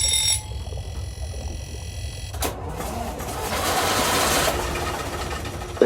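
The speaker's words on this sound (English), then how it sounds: "It was the noise of the Gardner engine on the Australis." Gardner engine running aboard the ship Australis: a steady, moderately loud mechanical drone with a whining tonal hum at the start, shifting to a broader rumbling wash partway through, with no voices.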